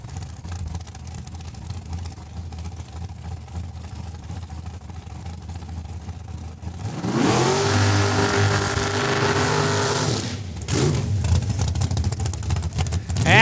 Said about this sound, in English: And that's Taylor Fiesel warming up the back wheels of that dragster.